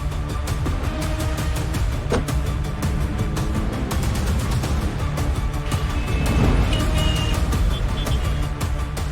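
A car driving steadily on the road toward a lawyer's house, its engine a continuous low rumble close by, with faint high beeps near the end and no talk.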